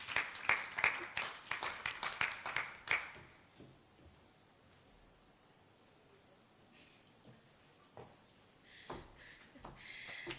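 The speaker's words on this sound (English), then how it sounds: "Another hand of applause to" Audience applause at a national conference on biodiversity funding, a brief burst of faint, distant clapping that dies away to a quiet room.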